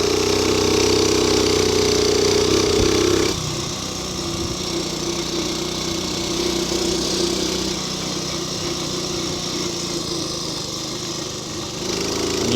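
A motorcycle engine drones loudly and steadily while riding on a cold, windy day, with a rough continuous hum that dips slightly partway through and a wash of wind noise over it.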